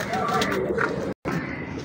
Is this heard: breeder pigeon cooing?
yes